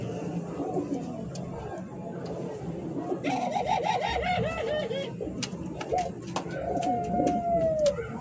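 A breeding pair of Australian gugu pigeons at a bird sale coo in soft, repeated calls close by, while someone talks over them and faint chirps and background chatter mix in.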